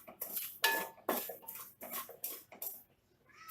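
Semolina is dry-fried in a pan for upma, with a metal spoon scraping and clinking against it in about eight quick, separate strokes, close and fairly soft with no voices.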